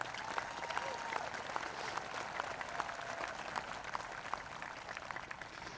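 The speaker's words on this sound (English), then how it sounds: "Please give them a round of applause." Soft, distant applause at a high school graduation ceremony, a dense continuous patter of many hands held at a low, even level throughout.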